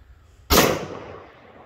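A single sharp gunshot at an informal outdoor shooting range, a loud close crack followed by a short decaying echo, with no one talking.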